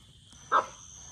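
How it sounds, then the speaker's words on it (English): A dog playing in shallow water gives one short, sharp bark at moderate distance, standing out against a quiet background of faint water sounds. "she's over there playing with my feet and barking"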